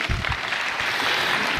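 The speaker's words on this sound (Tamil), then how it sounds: "அவங்களுக்கு நல்ல ஒரு கரகோஷம்" Audience applause at a Tamil Kavadi Aattam traditional dance performance, a steady dense wash of clapping holding at even loudness throughout the short stretch.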